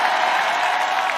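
Congregation applauding during a church sermon, a steady, dense wash of clapping that fills the whole short moment with no voice on top.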